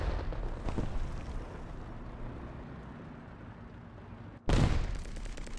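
Bombs detonate in a team-based online war game match, with low rumbling battle noise and distant gunfire giving way to a sudden loud, broad explosion blast near the end that leaves a lingering roar behind it.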